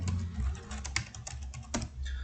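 Rapid clicking of keys on a computer keyboard, close and steady, as a short entry is typed, with no talking.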